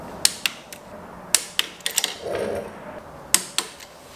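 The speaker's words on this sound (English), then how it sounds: "now we can finally torque everything down to 45 newton meters" A torque wrench tightens bolts on a KTM 790/890 Adventure motorcycle to 45 newton meters, giving sharp, scattered mechanical clicks and ratcheting ticks close up in a quiet garage.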